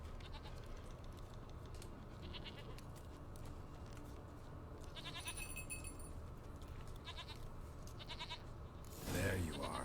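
A goat in The Witcher 3 video game bleats in short repeated calls over a steady background of game ambience, ending in a louder burst.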